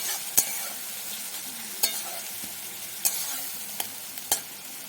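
A ginger, garlic and onion paste fries softly in a pan while it is stirred. The quiet sizzle is broken by a few sharp spatula clicks against the pan at roughly one-second intervals.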